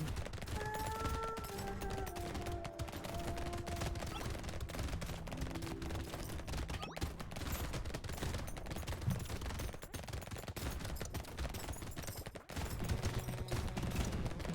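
Dense rapid gunfire and streams of bullets in Brotato, a continuous crackling fusillade of quiet shots with short tonal game chimes over it.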